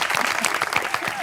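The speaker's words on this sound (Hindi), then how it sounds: "तालियां." Audience applause on the set of a Hindi comedy talk show, a dense wash of many hands clapping at steady loudness through a brief moment, with no voices over it.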